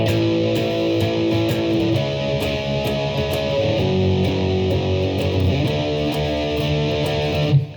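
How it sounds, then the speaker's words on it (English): An electric guitar plays power chords in a steady, driving strummed rhythm, sustained and fairly loud throughout with no talking. "It's going to sound something like this with the power chords."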